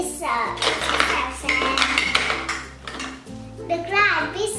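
Toy pots and pans clink and scrape with utensils as mushrooms and vegetables are pretend stir-fried in a children's play kitchen, with repeated close metallic taps and stirring under a child's chatter and a low background hum.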